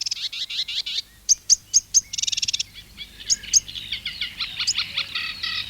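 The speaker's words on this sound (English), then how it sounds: "There's the old sedge warbler anyway, for a start. A cuckoo in the background, I think, too." A sedge warbler sings close by at Minsmere nature reserve, pouring out a rapid run of chattering, scratchy phrases broken by sharp repeated notes. A cuckoo is said to call in the background, though it stays faint under the warbler.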